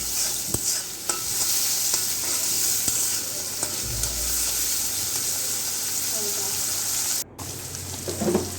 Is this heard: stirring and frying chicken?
yes